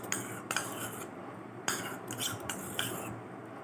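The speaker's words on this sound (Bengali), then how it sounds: "তারপরে ভালো করে নাড়াচাড়া করব।" A spoon clinks and scrapes against a bowl while stirring yogurt into a fruit chaat salad, several sharp taps at irregular intervals over a soft wet background, close and moderately loud with no talking.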